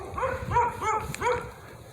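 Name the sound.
neighbor dogs barking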